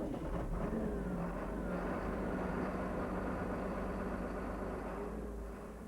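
A Massey Ferguson 8160 tractor engine runs at a steady, rumbling idle, close and continuous, easing slightly quieter at the end.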